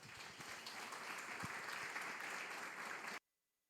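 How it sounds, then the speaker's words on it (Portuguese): An audience at a Sunday talk on emotional stability claps steadily for about three seconds, a dense, even applause that stops abruptly, leaving near silence. "É a maneira que ele tem de aplaudir."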